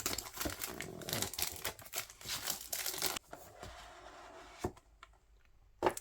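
Plastic packaging of a 4x4 speedcube crinkles and crumples close up in busy bursts, then tapers to a few isolated rustles and taps.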